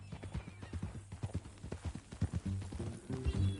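Steady clip-clop of horse hooves walking on hard ground, close and rhythmic, with a brief whinny-like sound near the end, heard on a ranch setting.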